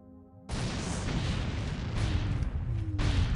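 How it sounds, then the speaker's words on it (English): Dimension missile launchers firing in X-COM Apocalypse during a building assault, a loud sustained roaring blast that starts abruptly, holds steady and surges again near the end. "It looks like Dimension missile launchers will work just fine."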